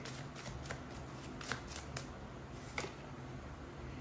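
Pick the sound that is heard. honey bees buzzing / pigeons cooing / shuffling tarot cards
shuffling tarot cards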